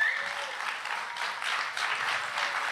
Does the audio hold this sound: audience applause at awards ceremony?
yes